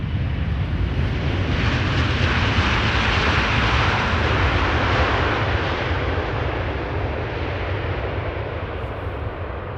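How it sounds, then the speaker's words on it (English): A KLM Boeing 777-300 airliner arriving from Lima roars past with a loud, sustained jet rumble and whine. The sound swells and then slowly fades as it goes by. "KLM flight 744, arriving from Lima in Peru,"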